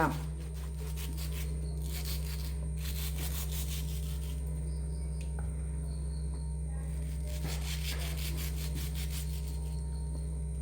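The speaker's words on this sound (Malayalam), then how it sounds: "അപ്പൊ ഇത് നമ്മുടെ മാമ്പഴം രണ്ട് തൊലി കളഞ്ഞ് വൃത്തിയാക്കി വെച്ചിട്ടുണ്ട് ഇനി നമുക്കിതൊന്ന് കട്ട് ചെയ്തെടുക്കണം" Peeled ripe mangoes are sliced with a knife on a board, giving soft scraping and cutting strokes over a constant low electrical hum in a home kitchen, with no talking.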